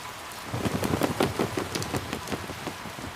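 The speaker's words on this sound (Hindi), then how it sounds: "पिछले 1 महीने से बिना रुके बरसात हो रही है" Heavy, steady rain falls in a jungle as a dense hiss of many drops patters close by. It runs unbroken and fairly loud, with no voices.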